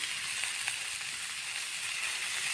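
Potatoes fry in a pan with turmeric powder, giving a soft, continuous sizzle that stays even and fairly faint throughout.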